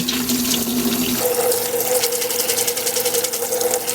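Yellow split peas being washed under a running tap, a loud, close, continuous rush of water splashing into a bowl with a brief tonal shift partway through, no voices.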